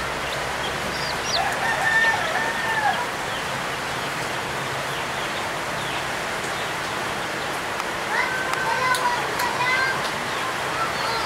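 Chickens and chicks heard outdoors, with a few rooster-like calls and clucks rising over a steady rushing background like rain or running water, while people talk in the scene.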